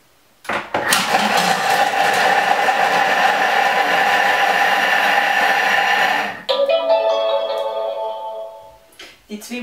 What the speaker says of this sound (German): Nun kommen die Zwiebeln in den Mixtopf und werden 5 Sekunden auf Stufe 5 zerkleinert.